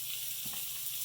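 A New York strip steak sears in melting butter in a pan, giving a steady, bright sizzle close by with a faint low hum beneath and no talk.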